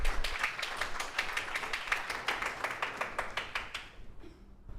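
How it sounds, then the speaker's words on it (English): An audience claps together in a brisk burst of applause that fades out after a few seconds. "Another round of applause for Maria."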